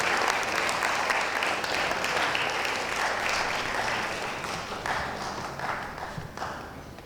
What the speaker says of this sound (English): With a resounding applause, please welcome with me, Ona Vera.